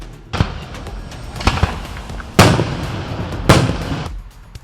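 Fireworks boom at a community picnic in Purdy, Missouri: four sharp, loud bursts, two close together early and two heavier blasts later, each leaving a brief rumbling tail with no voices.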